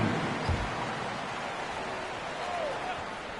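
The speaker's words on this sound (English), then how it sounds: "Let's get a round of applause for your Thunder Girls dance team." An arena crowd at a basketball game applauds and cheers for the Thunder Girls dance team, a steady, dense wash of clapping and crowd noise that fills the space without a break.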